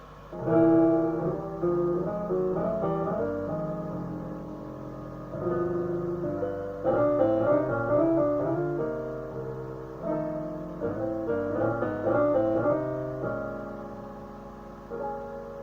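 A solo piano plays a flowing jazz phrase of quick chord runs and melodic flourishes, close and clear, rising and falling over about fifteen seconds.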